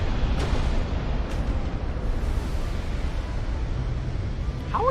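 Heavy rumbling impacts from 16-inch naval gun shells striking armor in Ultimate Admiral: Dreadnoughts, a dense continuous low boom and roar with faint distant crackles.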